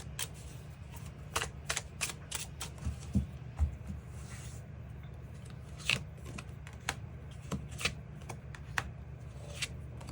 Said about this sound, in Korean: 나에게 어떤 특징을 가진 사람이 등장하게 될지 그 부분 추가 카드 뽑아보도록 하겠습니다